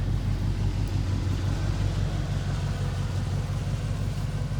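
A 1983 Oldsmobile Cutlass Supreme Brougham engine running with a slightly troubled carburetor, a steady low rumbling idle close by with no talking.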